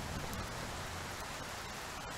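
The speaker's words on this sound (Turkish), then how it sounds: "Şu yağmur muhabbetini çözmeleri lazım. Çok gürültü çıkıyor ya." Steady broadband rain hiss in the Car Dealership Simulator video game, a continuous even wash of falling rain filling the short stretch with no voices.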